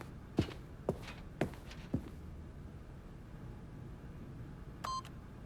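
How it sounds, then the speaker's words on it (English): Keypad PIN entry in The Stanley Parable video game: four quick, evenly spaced key presses with sharp taps, a short pause, then a clear confirming beep near the end. "But Stanley guessed the correct code by sheer luck"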